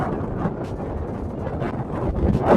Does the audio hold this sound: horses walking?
no